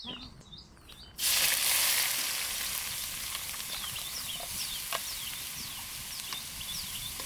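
Chopped onions dropped into hot oil for pav bhaji burst into a loud, sudden sizzle that settles into a steady close crackle, while birds chirp faintly in the background.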